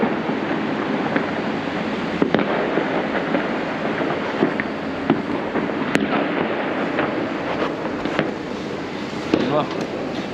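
New Year fireworks popping and crackling at a distance in Batumi, Georgia, a dense irregular stream of bangs over a constant rumbling wash, with people talking close by.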